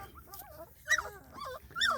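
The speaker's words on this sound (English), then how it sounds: "Boy, you talk about some healthy puppies." Two-week-old guardian dog puppies whimpering close by, with several thin, wavering whines and small yips coming in quick succession over a quiet background.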